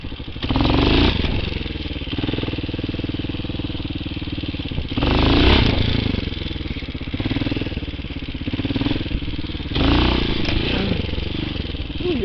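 A motorcycle engine revs while being ridden at night, a loud close roar swelling in three strong surges with steadier running between them.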